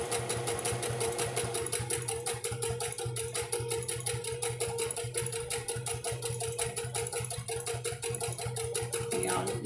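A sewing machine stitching clothes runs continuously at a steady fast rate, its rapid mechanical needle rhythm loud and close, with no voices over it.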